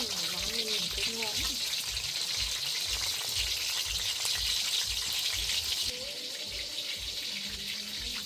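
Food frying in a pan, with a steady broadband sizzle running throughout and a faint tap or water sound in the background, while people talk over it.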